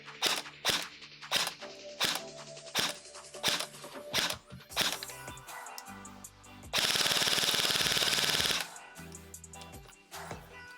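Specna Arms Flex SA FX01 airsoft rifle, powered by an 11.1 V LiPo battery and loaded with 0.20 g BBs, fires a series of short semi-auto shots and then a sustained full-auto burst, all close and loud.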